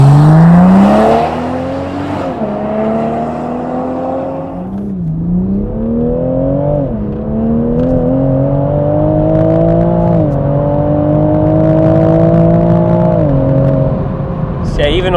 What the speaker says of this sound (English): even on high RPMs, the exhaust note is very clean